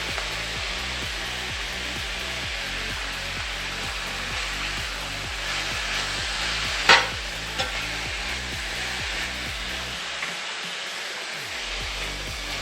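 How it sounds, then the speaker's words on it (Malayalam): Bitter gourd with salt is stirred in a pan over a steady frying hiss, with a repeating low hum running underneath and one sharp clink of the utensil against the pan. "നല്ലതായിട്ട് ഇളക്കണം ഉപ്പ് എല്ലായിടത്തും പിടിക്കുന്നിടം വരെ നമ്മൾ ഇളക്കി ചേർക്കണം"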